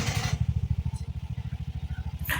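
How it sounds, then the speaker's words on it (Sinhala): A 2025 Bajaj EFI BS-6 auto rickshaw engine runs close and loud, settling into a steady, rapid thumping idle with no talking. "අපි ස්ටාර්ට් කරලා බලමු වාහනේ කොහොමද සද්ද කියලා."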